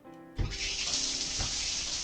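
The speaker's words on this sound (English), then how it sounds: "Before I knew it, I could hear the sound of the shower." Steady rushing spray of a shower running in the Amber Quartz visual novel, starting abruptly after a short quiet lead-in and continuing as an even, close hiss.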